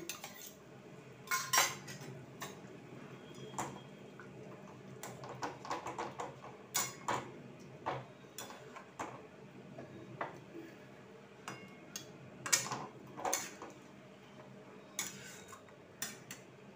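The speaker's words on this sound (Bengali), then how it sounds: "এবার আঁচটাকে জোরে করে দিলাম আর সমানে যদি আমি নাড়তে থাকি তাহলে দইটা কাটবে না" A spoon scrapes and clinks around a pan while yogurt is stirred into egg curry over high heat, giving irregular metallic taps and scrapes at close range, fairly quiet throughout.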